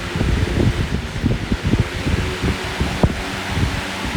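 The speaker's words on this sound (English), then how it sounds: "that 1 amp motor is really working that" A box fan with a 1 amp motor spins a swapped blade, giving a loud steady rushing whoosh with an irregular thumping throb beneath it.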